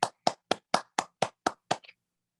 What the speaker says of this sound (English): Everyone, please put your hands together and give a giant applause for Mr.